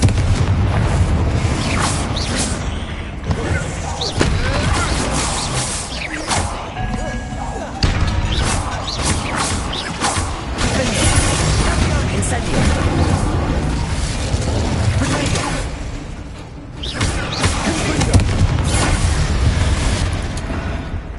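Confringo fire spells go off repeatedly in Hogwarts Legacy gameplay on PS5, giving loud booming blasts and thuds over a dense game soundtrack, with a voice calling out spell names.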